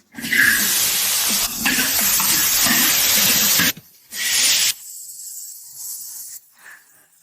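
Crayfish tipped into rapeseed oil heated in a wok on a stove, bursting into a loud, steady frying hiss for several seconds, then cutting out and returning in shorter, fainter sizzling bursts.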